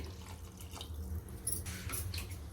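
Water pours from a glass into a pressure cooker holding rice and vegetables for pulao, a soft, steady splashing trickle heard close up with no talk.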